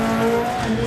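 Peugeot 205 T16 rally car sliding on gravel in the Dirt Rally 2.0 video game, a steady high engine drone with tyres scrabbling across loose stones, close and continuous, no talk.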